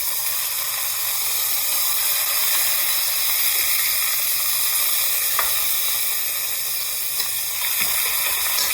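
Pork shank sears in a hot pan as it is turned, giving a steady, even sizzle with a few faint knocks and scrapes and no talking.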